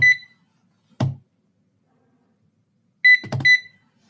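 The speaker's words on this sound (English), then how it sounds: "Okay, so let's start the timer." A timer gives a short burst of bright electronic beeps, goes quiet, then beeps again with a couple of soft taps, as if a button is pressed, all close and clear with no talking.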